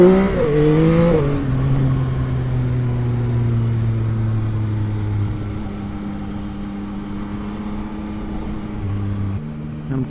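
A Yamaha XSR 900 motorcycle engine revs up sharply, then settles into a sustained steady drone before dropping back, close and fairly loud with no voices.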